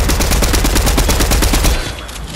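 Rapid automatic gunfire in a video game rattles loud and steady for about two seconds, then cuts off abruptly.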